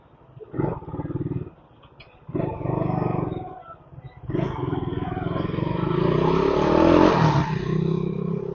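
An almost eight-year-old carbureted Suzuki Raider 150 motorcycle engine gives a few short, throaty revs separated by pauses, then a longer, rising rev that holds near and loud.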